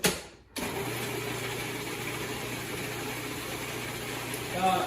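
A blender whirs steadily as it blends chickpeas, kicking in abruptly after a brief pause and then running at an even, moderately loud drone for several seconds.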